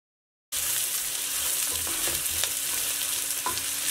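Chopped onions with black cardamom, cloves and peppercorns frying in a pan for mutton curry, a constant close sizzle with light stirring scrapes, starting after a brief silence.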